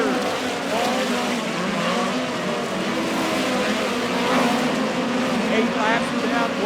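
Midget race cars circle the dirt oval at Lake Ozark Speedway in a POWRi National Midget League race, a dense, continuous high-pitched engine roar with cars passing by, under an announcer's commentary.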